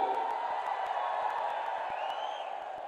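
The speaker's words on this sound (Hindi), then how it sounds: "जोटा जोरदार करताली हो हुलहुली हो" A crowd claps steadily at a BJD public meeting in Balasore, a continuous bed of applause with a few rising whoops and ululating cries over it, fairly distant and even in level.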